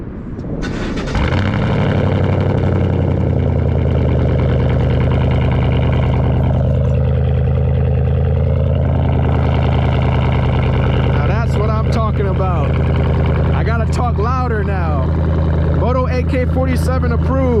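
A 2020 V8 truck engine idles loudly and steadily near a cold start with a deep, throbbing rumble, and a person talks over it toward the end.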